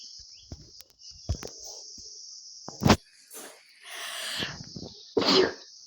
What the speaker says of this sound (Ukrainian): Просто чхнула.